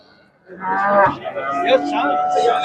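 A farmer's cow, kept with her calf at the Shahrisabz Wednesday livestock bazaar, lets out one long, loud, close moo that holds for about two seconds.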